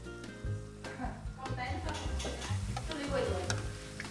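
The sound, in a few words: seadas pastry frying in hot oil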